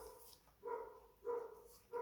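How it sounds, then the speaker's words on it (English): A dog barks three times at a steady pace in the background, the sharp, tonal barks standing out over quiet room noise. "stupid barking dog, please."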